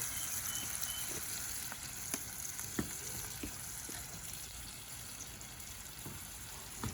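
Butter burgers and onions frying in a skillet over charcoal on a Big Green Egg give a steady, dense sizzle, with a few faint clicks and taps scattered through it.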